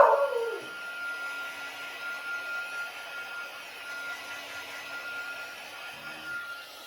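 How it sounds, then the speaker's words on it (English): A brief bark with a howl from Oliver the dog opens, then fades into the constant hum of a hair dryer running indoors. "What you barking at?"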